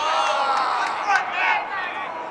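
Crowd at a professional volleyball major premier final in Salt Lake City cheers and shouts steadily, a dense loud roar with a few sharp whoops rising over it, under continuous play-by-play commentary.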